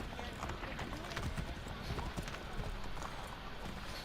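Horse hooves clip-clop at a steady walking pace in the game Assassin's Creed III, arriving in Boston, with soft rhythmic strikes under ambient game sound and voices talking.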